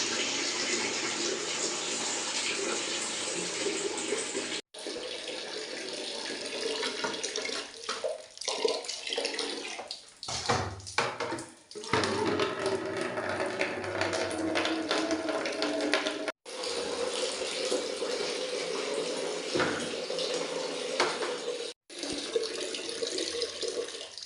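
Hot water splashes and gushes steadily into a bucket, with brief clunks and pauses between pours.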